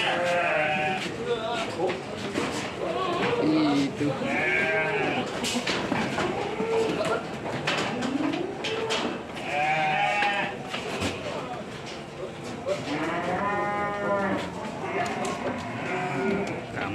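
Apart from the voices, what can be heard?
goats bleating on a farm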